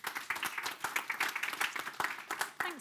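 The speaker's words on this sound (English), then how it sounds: "Can we have a round of applause, please?" Audience applause at a lunchtime policy session, a dense run of many hands clapping steadily at moderate level with no voices over it.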